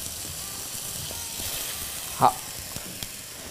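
Thick king oyster mushroom slices pan-frying, second side down in the pan, give a soft continuous sizzle and hiss with a short brief voice over it.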